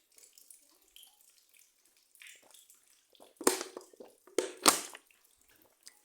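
Water from a mineral spring in Korytnica splashes and gurgles in short bursts, a few louder pours into a container close by, with quiet gaps between them.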